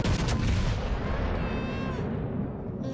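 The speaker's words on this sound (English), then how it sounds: "We'll get 1 more salvo off." A warship's naval gun salvo in World of Warships fires with a sharp, heavy boom that rolls out into a long, fading rumble.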